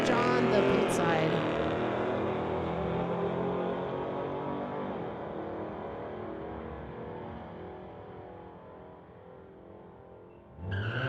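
A BMW and another street-legal car drag racing on a strip, engines roaring loudly and then fading steadily into the distance as they run away, with a new burst of noise right at the end.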